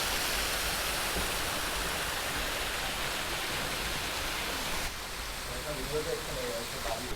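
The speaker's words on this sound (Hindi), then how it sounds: "और यहाँ पर ये वाटरफॉल है, काफ़ी बढ़िया दिख रहा है आप देखो।" Waterfall near the Bhaja Caves in Lonavala, Maharashtra: a steady, close broadband rush of falling water that fills the clip, easing slightly after about five seconds, with a faint voice briefly audible near the end.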